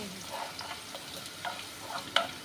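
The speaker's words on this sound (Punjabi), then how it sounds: "ਲਸਣ ਅਦਰਕ ਨੂੰ ਵੀ ਜੀ ਆਪਾਂ ਨਾਲ ਹੀ ਪਕਾ ਲਾਂਗੇ" Chopped garlic and ginger frying for tomato chutney, with a low, steady sizzle and occasional light scrapes and clinks of a spoon, close but quiet, no talking.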